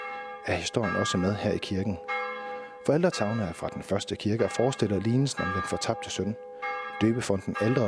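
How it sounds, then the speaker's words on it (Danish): A church bell rings in a small, bright modern church, its steady sustained tones humming softly in the background beneath continuous close speech from a man. "Og det samme gælder kirkeklokken, som du kan høre i baggrunden."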